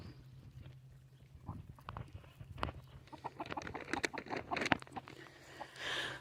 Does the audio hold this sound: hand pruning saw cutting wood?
no